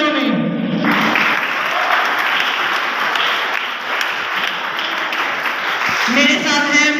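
Loud, dense applause from a crowd fills the room at a school Teacher's Day drama event in Sialkot, with a short voice at the start and another near the end.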